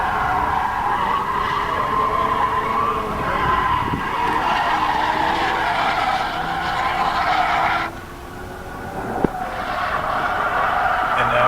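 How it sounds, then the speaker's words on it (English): Tires squeal and skid loudly over a revving engine as a car spins its wheels on a race track, with a brief drop and a sharp knock near the end. "as the RPMs kick up, you can get a little bit more wheel spin on that car"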